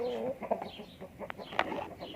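A few short, throaty clucks from a Burmese fighting cock over a noisy farmyard background, with a couple of sharper bursts near the end.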